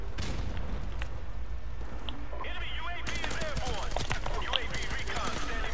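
Multiplayer gunfire and explosion effects sound in Call of Duty: Modern Warfare Remastered on the Bog map: bursts of shots and booms layered over game noise, with a player's voice talking loudly across much of it.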